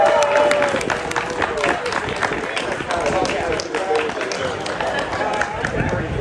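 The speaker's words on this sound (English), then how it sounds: "Can I have another round of applause?" Sustained applause from an audience at a community Pride event, dense clapping filling the room for several seconds with a crowd murmur and some voices mixed in.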